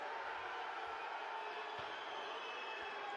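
Basketball fans in an arena during a Champions League game between Pinar Karşıyaka and Dinamo Sassari, a steady, fairly distant crowd murmur with faint thuds of a bouncing ball beneath it.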